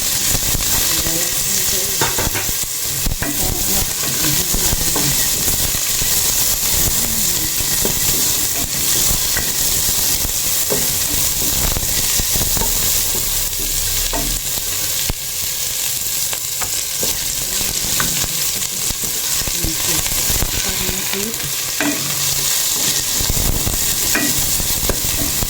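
Onion and ginger fry in a hot pan for chicken adobo with eggs, giving a loud, continuous sizzle with bursts of stirring throughout and no talking.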